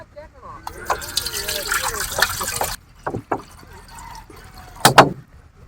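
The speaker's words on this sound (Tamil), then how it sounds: "முதல்ல தண்ணி ஊற்றிக்கலாம்." Water is poured into a large metal biryani pot in a village kitchen, with a gushing fill that stops and then comes back as short splashes and a final burst, while people talk nearby.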